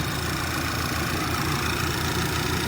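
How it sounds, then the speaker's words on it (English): A 2009 VW CC Sport engine idles steadily, a continuous rumbling hum with faint knocking, no voices present. "the engine's not running that bad"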